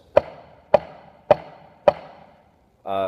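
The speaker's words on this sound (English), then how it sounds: "If I had very flat flams, it might sound like this." Four flat flams struck on a snare drum at an even pace, each grace note nearly merged with the main hit, crisp and close, followed by a voice starting.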